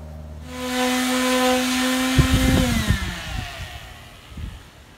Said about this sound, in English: After you've sanded all 4 sides, you got to make sure to sand the ends.